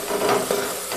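Masoor dal with red and Kashmiri chilli stirred in a pot, a brief soft scraping and bubbling sizzle close by, continuous and moderately loud.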